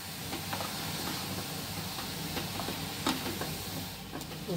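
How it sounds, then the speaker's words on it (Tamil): Carrots sautéing in ghee for carrot halwa give a soft, steady sizzle. Faint stirring clicks and scrapes sit over the hiss. "கேரட்டை ஒரு 5 நிமிஷம் நம்ம வந்து நெய்யிலே வதக்கிக்கலாம்."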